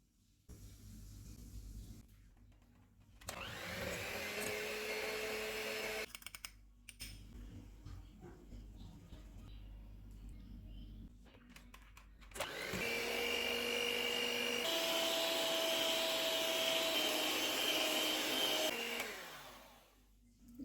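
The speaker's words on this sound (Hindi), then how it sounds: "क्रीम को 1 मिनट तक व्हिप करेंगे।" An electric mixer whips cream with powdered sugar for a pineapple cake, whirring in close bursts that start, stop and restart, with a higher steady whine during the longer final run.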